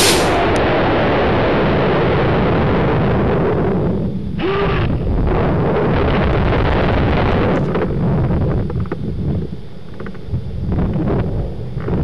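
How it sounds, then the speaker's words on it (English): A water rocket launching outdoors with a mercury switch experiment, a sustained loud rushing whoosh heavily buffeted by wind across the microphone, steady throughout without speech. "watch again as the rocket accelerates just past 150 feet"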